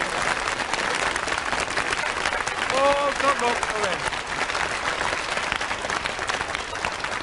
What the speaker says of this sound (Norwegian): Vi klapper for farven i Norge